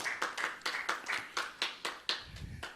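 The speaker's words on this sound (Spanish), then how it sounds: "Denle un aplauso al bendito Señor Jesucristo." Clapping in a church sermon, with about a dozen sharp, evenly spaced claps that sound like a small group or a few hands close by, and a brief low thump near the end.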